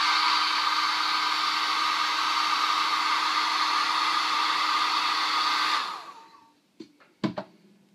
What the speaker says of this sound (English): I'm going to be intermittently using the hairdryer to speed up this video